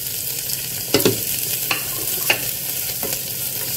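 Chopped onion frying in a pan with crushed star anise while pork ribs are being cooked, giving a steady, soft sizzle broken by a few sharp scraping stirs of the spoon, close up, with no voices.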